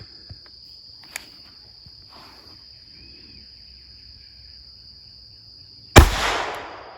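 A single sharp gunshot from a .22 compact pistol firing a hollow point into a ballistic gelatin block, loud and close, ringing off briefly after a quiet stretch filled with a steady insect-like whine.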